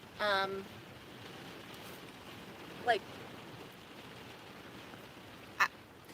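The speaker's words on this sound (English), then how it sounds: "This rain is crazy." Heavy rain falls on a van in a steady soft hiss throughout, heard from inside, with brief louder squeaks and knocks breaking through now and then.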